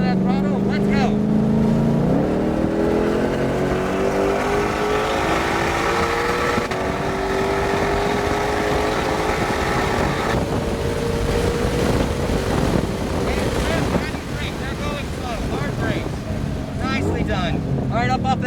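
A Ford Mustang Shelby GT500 accelerating on the NOLA Motorsports race track, its engine note climbing steadily in pitch over many seconds, heard from inside with wind buffeting and a voice talking over it.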